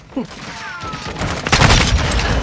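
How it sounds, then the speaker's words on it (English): Rapid gunfire from Call of Duty Modern Warfare 2 on the Shipment map, dense overlapping shots building into a loud sustained burst after a brief opening crack. "I hit like two bullets into that man's head"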